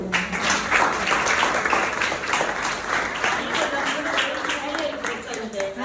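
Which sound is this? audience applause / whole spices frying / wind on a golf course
audience applause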